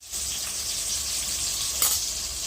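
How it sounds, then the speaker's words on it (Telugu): Tomatoes fry in hot oil in a pan, giving a steady, close sizzle with a brief louder crackle near the end. Nobody talks. "ఇవన్నీ అయితే మంచిగా వేగనిద్దాము"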